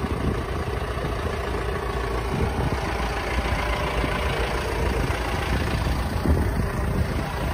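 A John Deere 6140M tractor, a four-cylinder 140-horsepower short-frame machine, idles with a steady, dense low rumble that holds an even level throughout, with no voices.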